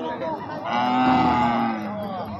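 A cow gives one long, loud, drawn-out moo at a cattle market, close and clear against faint background noise.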